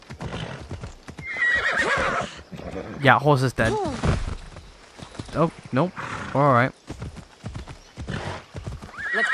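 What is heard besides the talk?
horse galloping and whinnying, from video game Assassin's Creed Odyssey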